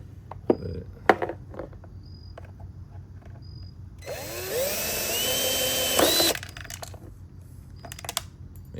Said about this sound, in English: And you just drill them out.